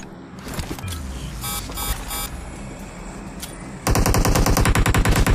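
Gunfire in an online shooter game: rapid automatic bursts ring out close and loud, building to a dense continuous rattle of shots in the final seconds.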